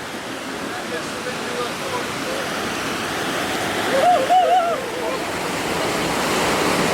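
A waterfall on a tributary of the Valbona river roars as a loud, steady wash of falling water heard from its base, with a brief voice rising over the rush partway through.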